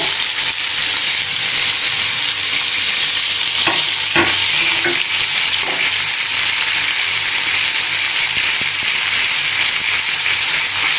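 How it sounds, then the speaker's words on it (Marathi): Onions and cashews frying in a pan for an Afghani egg curry, a loud continuous sizzle with a few spoon stirs and clinks against the pan, close and without talking. "कांदा आपण परतायला सुरुवात केलेली आहे। आता या कांद्यात आपण जे काजू घेतले आहेत ते घालूया।"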